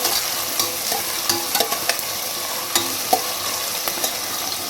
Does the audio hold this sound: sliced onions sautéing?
yes